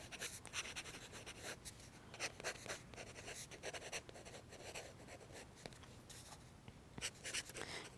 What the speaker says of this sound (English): I can write over top.